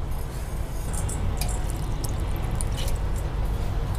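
Water splashes and trickles into a cooking pot holding cauliflower florets in a home kitchen, a steady close pouring wash with scattered bright drips, no voices.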